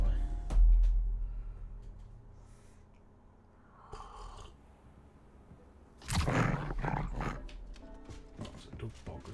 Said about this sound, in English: Oh no, that's my wolf.